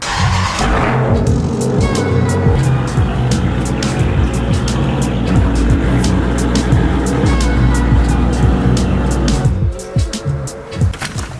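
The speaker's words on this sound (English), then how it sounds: "I'm gonna give you guys some turbo noises so you guys can see what it sounds like" A Mitsubishi Evo X engine runs loud and close, with a sharp rattling rev, a dense idle roar and rapid turbo flutter bursts before the noise drops off near the end.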